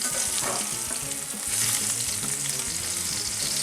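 Blackened fish searing in a hot pan, a continuous close, crackling sizzle with faint scraping, steady throughout with no talking.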